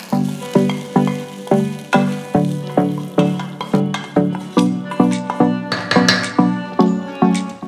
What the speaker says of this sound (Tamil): இப்போ தாளிப்பு ரெடி ஆகிடுச்சு. நம்ம கஞ்சியில் சேர்த்துக்கலாம்.